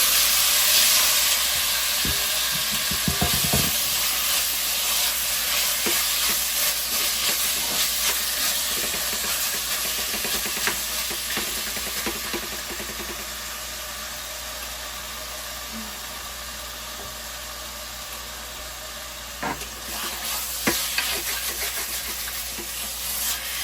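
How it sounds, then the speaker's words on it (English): Olive oil heating in a hot pot for a Trinidadian stew beef makes a steady hiss and sizzle close by, with occasional clinks and stirring knocks of utensils over the constant frying noise. "And I'm going to add a little bit of oil. I'm using olive oil."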